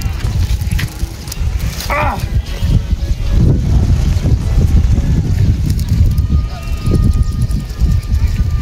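Strong outdoor wind buffeting a microphone in a steady loud rush, with a voice briefly heard, where a bamboo kite is being made and flown.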